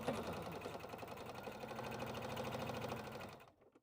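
A sewing machine runs steadily, stitching down the sides of a fabric bag in one continuous close run of rapid needle strokes that stops abruptly near the end.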